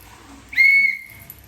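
A single sharp whistle blast at a Jamaica Carnival costume unboxing, bright and piercing, lasting about a third of a second, then quickly fading against a quiet background.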